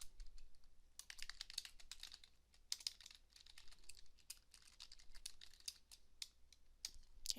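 Rapid, uneven keystrokes on a computer keyboard while code is entered, close and fairly quiet, with short pauses between bursts of clicks and no talking.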